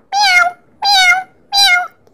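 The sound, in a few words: person imitating a cat meow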